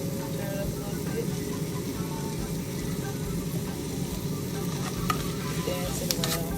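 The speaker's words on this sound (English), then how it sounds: "I'm going to fry it all the way through the pan." Chicken frying in a pan gives a continuous close sizzle with a crackling hiss throughout, a steady low hum underneath and a few brief clinks near the end.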